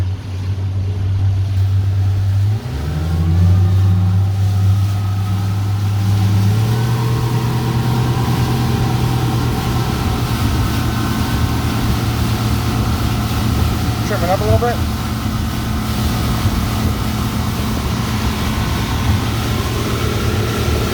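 A 2007 Pro-Line 24 SS boat engine running on the water, a loud steady droning hum that steps up in pitch after a few seconds and then holds, with water rush and wind around it.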